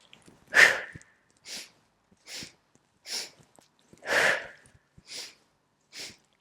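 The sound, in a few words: fast sniffing inhales in breathing exercise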